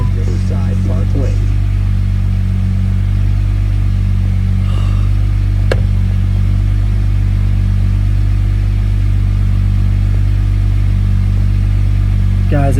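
A Jeep engine idles steadily at about 750 RPM outdoors on a parkway, a loud, even, continuous low rumble sounding close, with a brief louder touch early on.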